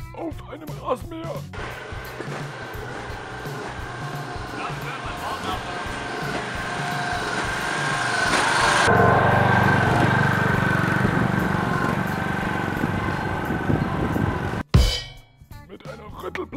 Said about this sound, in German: Auf einem Rasenmäher!